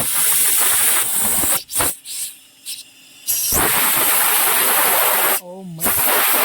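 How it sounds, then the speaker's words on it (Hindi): Air hissing out of a valve on an irrigation pipe in a polyhouse: a loud, steady spray-like hiss that cuts out briefly a few times, with a voice speaking during a gap. "ये है एयर का, एयर निकालते हैं इसकी।"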